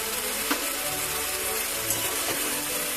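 Banana flower curry (mochar ghonto) cooked with coconut, salt and turmeric being stirred in a pan, giving a steady close sizzle with soft scraping strokes and a couple of sharper clinks.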